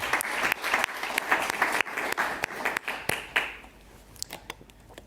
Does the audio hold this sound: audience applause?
yes